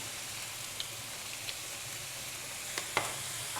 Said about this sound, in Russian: Хорошенько вот так поджарим